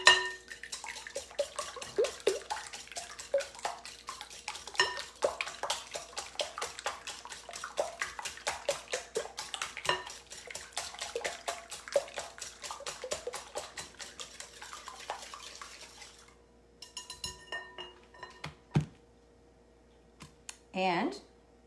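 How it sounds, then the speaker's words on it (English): A whisk beating six eggs in a bowl, a fast, steady run of close clicking taps against the bowl's side for about fifteen seconds, then a few scattered clinks. "So I'm going to whisk the eggs."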